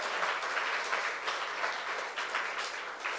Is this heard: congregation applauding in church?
yes